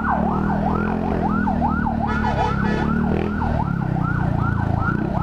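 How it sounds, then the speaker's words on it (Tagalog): An ambulance siren wails loudly and steadily in repeating up-and-down sweeps, close by, with traffic rumble underneath. "Wait lang, may dadaan na ambulansya."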